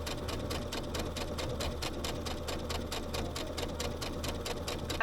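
A sewing machine stitches a dress with a quick, even ticking rhythm of needle strokes over a low motor hum, close and quiet, running steadily without pause.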